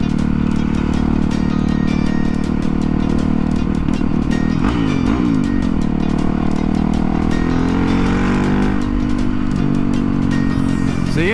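Motorcycle engine roars loud and close throughout, revving and pitching up as it accelerates hard, with steady wind rush and no voices.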